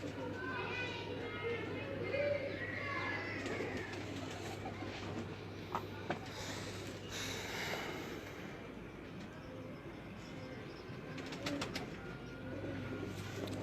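Breeder pigeons in a loft coo softly and intermittently, steady and moderately close, under near-continuous talking and a constant low hum.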